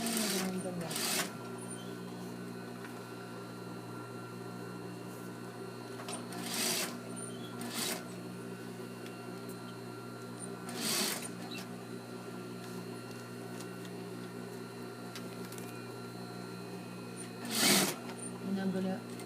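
A sewing machine stitches around the neck of a shirt-dress, keeping up a steady close hum broken by short bursts and pauses, while a voice talks quietly throughout.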